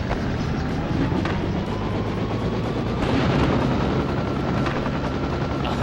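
A helicopter in a video game drones with continuous loud rotor noise, joined by a few sharp impacts and faint mechanical tones, with no talking.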